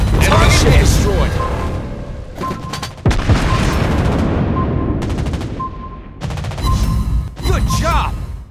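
Rapid anti-aircraft gunfire from a Soviet cruiser, the Admiral Makarov, in World of Warships Blitz, loud bursts repeating in quick volleys with short gaps. A game voice speaks over the firing.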